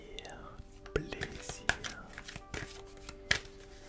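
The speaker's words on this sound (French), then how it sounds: "je mélange bien le jeu parce que ça fait un moment que je ne l'ai pas utilisé" A deck of tarot cards is shuffled close up in a quiet room, with soft riffles and several sharp snapping clicks spaced through the passage, alongside faint whispering.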